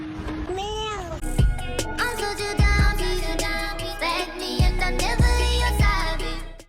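A cat meows with a rising and falling cry, followed by loud music with heavy bass and layered electronic tones.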